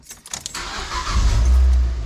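A road car parked at home cranks and fires up, keys jangling first, then the engine catches and settles into a loud, close idle rumble, with no talk.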